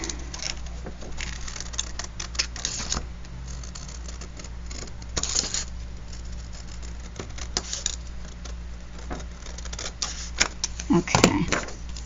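Paper is cut with scissors in a quiet room, irregular crisp snips and rustles close by, with a brief louder crinkle near the end.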